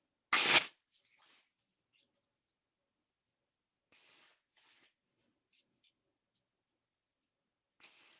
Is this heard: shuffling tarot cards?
yes